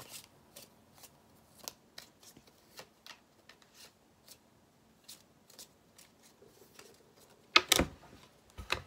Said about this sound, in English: Gonna shuffle the cards.